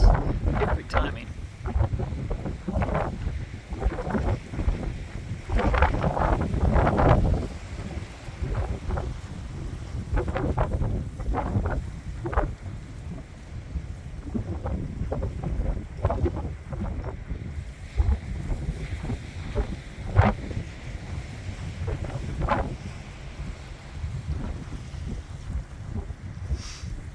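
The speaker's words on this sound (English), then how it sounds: "Got the boat going through it." A boat motors past on the water off La Push beach, its low drone steady under heavy wind buffeting the microphone, with surf and occasional voices mixed in.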